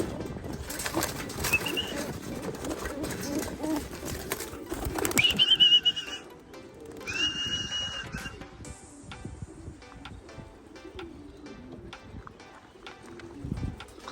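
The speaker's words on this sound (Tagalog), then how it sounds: "Nako, umiikot pa mga kalapatids" Racing pigeons circle and flap overhead, with bursts of wing beats and scattered coos against rustling background noise, fairly close and with no talk.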